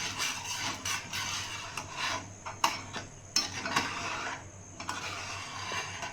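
A spoon scrapes and rubs a thick peda mixture of milk powder and ghee around a pan over a low flame, in faint, irregular strokes with soft knocks against the pan.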